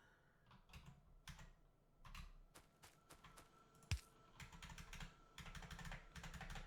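Clicky computer keyboard typed on in bursts of rapid, close keystrokes separated by short pauses, with one sharper louder thump midway and faster flurries toward the end.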